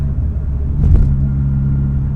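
A Fiat Cinquecento 1.1 Sporting's small engine hums steadily with a low idling drone throughout, swelling briefly into a slightly louder rev near the middle before settling back.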